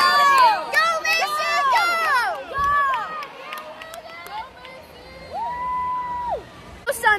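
Excited shouts and whoops from a small group of spectators cheering a player at a sports tournament, loud, close and overlapping, with a brief lull before more yells.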